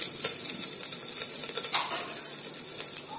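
Garlic and other ingredients sautéing in a pan for moong dal khichdi, a steady close sizzle and crackle with a few soft stirring scrapes, no voices.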